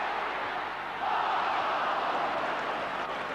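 Football crowd at a Brighton match, a steady broad roar from a large stadium audience that swells slightly after the first second and stays level.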